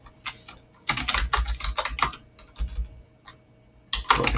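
Bursts of typing on a computer keyboard while entering a short word into a Visual Basic program, with clustered key clicks, pauses between groups, and a final flurry near the end, close and moderately loud, no talking.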